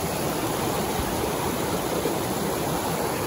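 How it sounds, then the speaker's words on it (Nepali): A snow-fed mountain stream near Darjeeling rushes steadily, giving a loud, dense, unbroken wash of flowing water that fills the whole clip without pauses and with no voices. "पानी बगिरहेको कति मजाको है."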